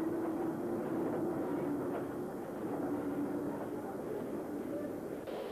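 Hudswell Clarke 204-horsepower diesel mechanical shunting locomotive D14 runs nearby, giving a loud, steady rumbling drone with a faint rail clatter that holds without a break throughout.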